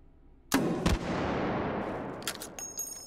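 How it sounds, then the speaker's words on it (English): A grenade launcher in the VR game Hot Dogs, Horseshoes & Hand Grenades fires two sharp blasts in quick succession, followed by a long rumbling decay and a few fainter clanks. "Let's grab our grenade launcher here."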